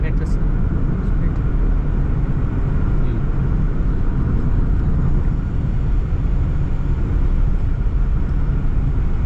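A Toyota Sprinter AE110 cruises at speed from inside the cabin, a loud continuous broadband road and engine rumble with steady wind noise, a voice talking faintly over it.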